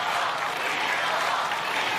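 An American Ninja Warrior crowd cheers and applauds in a dense, steady roar of clapping and shouting that fills the whole moment without a break.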